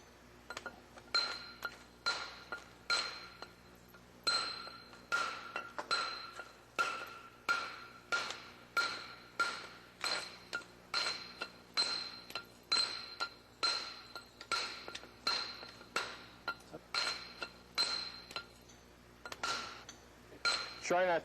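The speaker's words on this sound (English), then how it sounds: "Here we're using a 2-inch chipper." A 2-inch chipper is struck against rock edges in a steady series of sharp, ringing metallic taps, roughly one per second, close and crisp over a quiet background.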